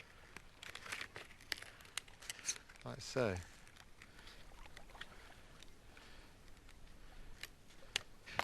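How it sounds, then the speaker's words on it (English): Scissors snip thin split cedar sheeting for a birch bark canoe, a few soft crisp cuts and crinkles up close, with someone talking briefly and quietly around them. "we shape the ends here with a pair of scissors"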